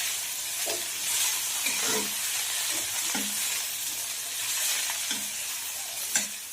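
Fiddlehead fern greens and chickpeas fry in a pan while being stirred, with a steady sizzle broken by regular scraping strokes about once a second, close and moderately loud, with no speech.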